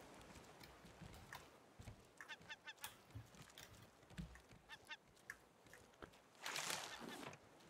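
A bird calling in the survival video game Raft, a run of repeated honking, goose-like cries over a constant ambient wash, growing louder toward the end, with some talking mixed in.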